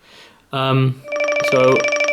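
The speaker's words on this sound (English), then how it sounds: "got a bit of a different one for this one. So Sedna's my selection on this. Preview notification" Ringtone preview on a Huawei Watch running Android Wear 2.0: a short harmonic chime around 0.5–1 s, then a longer bright multi-tone electronic melody with steady pulsing notes, loud and close with no talk over it.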